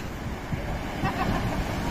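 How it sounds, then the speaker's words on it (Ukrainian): Big sea waves breaking on the shore roll in as a steady, broad surf roar with wind noise buffeting the microphone, continuous throughout with no distinct individual crash. "хвиля дійсно така велика сьогодні"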